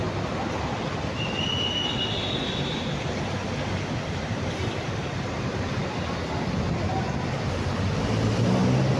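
LRT light rail train passing near Buendia station, a loud, steady rumbling roar with faint metallic wheel squeal, heard close by without any talking.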